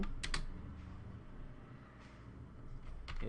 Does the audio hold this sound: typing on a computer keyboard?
yes